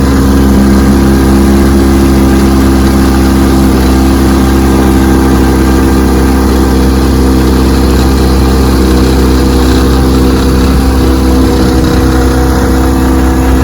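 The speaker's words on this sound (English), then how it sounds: "Check that out, but it's a great motor." Restored vintage Evinrude outboard boat motor running steadily on a lake after 70 years unused, a loud, close, continuous droning idle with no pauses.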